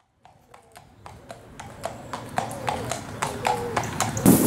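Horse hooves clip-clop on a hard surface at an eventing stable, in a steady walking rhythm that grows louder as the horse approaches.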